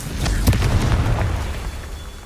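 A Confringo fire spell explodes in the video game Hogwarts Legacy, a single loud, close boom with a sharp crackling burst that rolls into a deep rumbling tail and slowly fades, with no talking over it.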